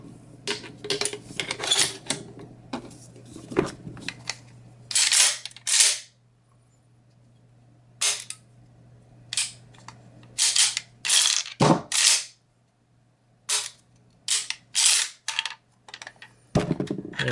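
High Standard shotgun action cycled with dummy rounds, a series of sharp metallic clacks and sliding rattles in irregular bursts separated by quiet gaps, close up and without talk.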